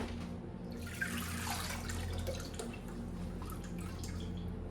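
Water drains and trickles from a load of freshly blanched peas in a strainer, a faint steady splashing and dripping over a low background hum.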